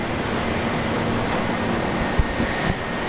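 Korean Air Boeing Dreamliner departing runway 01 left at Brisbane Airport, a steady broad jet engine roar heard from a distance, continuous and unbroken, without voices.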